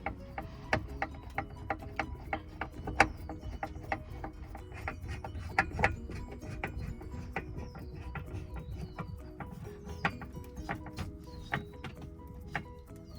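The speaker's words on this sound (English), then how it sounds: "I grab my Phillips screwdriver. Screw it back into place." A Phillips screwdriver drives a screw back into a bed riser, making rapid ratcheting clicks and mechanical ticks in an uneven rhythm, close and fairly quiet, without speech.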